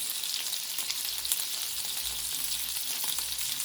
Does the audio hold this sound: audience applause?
no